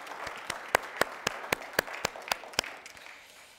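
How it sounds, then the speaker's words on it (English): Church congregation at a Remembrance Day service applauding, a broad wash of clapping with a string of loud, close, evenly spaced claps that fade out toward the end. "Let's give them a hand of a thanksgiving and applause"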